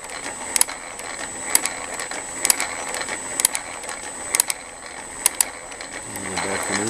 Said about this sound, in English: You can hear it ratcheting.